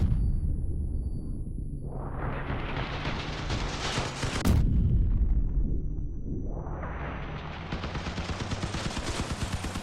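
Shotgun blasts from armed vehicles in the Crossout combat game, loud heavy booms with a big burst near the middle, set against a rumbling engine and clatter, and no talking over it.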